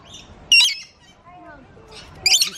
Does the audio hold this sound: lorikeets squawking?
yes